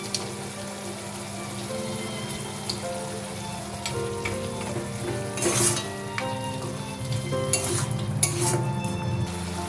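Fried peanuts go into a pan of banana flower cooking for a vegetarian mochar ghonto curry, with a steady close sizzle, a few metal clinks and stirring scrapes that swell louder toward the end.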